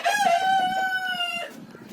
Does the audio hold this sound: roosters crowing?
yes